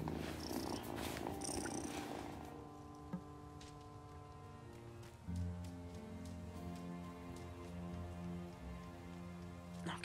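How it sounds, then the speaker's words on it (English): A cat in the video game Wylde Flowers purrs steadily and softly for several seconds over a constant patter of rain, with no voices. "Purr."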